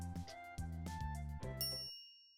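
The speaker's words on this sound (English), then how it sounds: "A chime signals our arrival on the 5th floor." Elevator arrival chime in the Steins;Gate video game: a sequence of bright bell-like dings ringing in steps and trailing off into a sustained shimmering tone.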